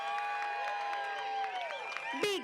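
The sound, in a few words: crowd applause for the surfing gold medal winner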